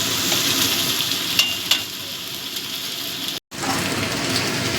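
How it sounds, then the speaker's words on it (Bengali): Salted onions, with potatoes, fry in a kadai pan and are stirred, a steady close sizzle with a few scraping stirs and a very brief silent cut near the end. "এবার পেঁয়াজটা ভালো করে ভেজে নেব।"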